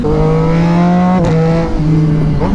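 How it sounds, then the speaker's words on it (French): A Triumph motorcycle engine roars loud and close, holding a steady high-revving drone with a brief dip partway through before climbing again. "le bruit de ton triomphe, il est incroyable"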